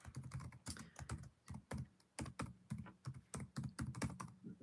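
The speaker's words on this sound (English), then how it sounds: "There, I typed it into the chat." A computer keyboard is typed on rapidly and steadily, with close, sharp keystrokes in uneven bursts throughout and no voices.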